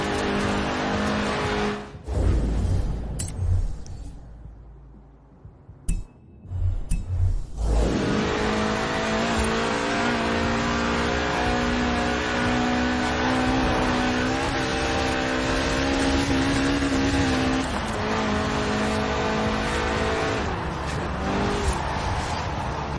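A car drifting around corners in Forza Horizon 4 revs hard with a loud, steady engine whine, tire squeal and shifting pitch, a brief dip near the start before the engine roars on continuously.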